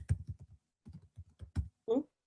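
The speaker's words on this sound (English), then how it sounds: "I'm typing and trying to look at you guys." Typing on a computer keyboard during an online meeting: quick bursts of close, clicky keystrokes in uneven clusters, with a short pause between runs and one softer final sound.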